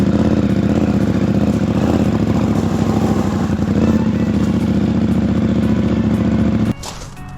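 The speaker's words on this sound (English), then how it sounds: "That's one of the things about the engine on these bikes, being the twin, it does sound incredible." A KTM twin-cylinder motorcycle engine idles and revs loudly nearby with a rough, throbbing twin-cylinder beat, steady throughout before cutting off abruptly near the end.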